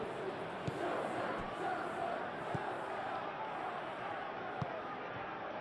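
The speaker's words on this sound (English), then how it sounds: "the crowd are reacting to that now." A stadium crowd in PES 21 murmurs and swells throughout a simulated Chelsea versus Manchester City Premier League match, a steady wash of distant roar broken by a few faint thuds.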